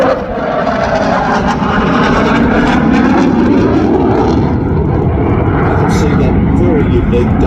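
A SAAB J35 Draken double delta jet performing at an air show roars loudly and continuously overhead, a rushing jet blast that shifts in pitch as it passes, with a commentator talking over it.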